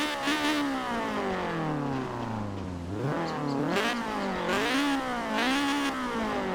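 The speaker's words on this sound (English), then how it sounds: "the game has different engine tones that are faithful to the number of cylinders and their layout" Forza Horizon 4 car engine revving hard and loud, pitch climbing, dropping and rising again in repeated surges with no other sound.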